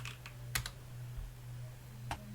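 Quiet keystrokes on a computer keyboard tap out a few scattered clicks over a steady low electrical hum, with no one speaking.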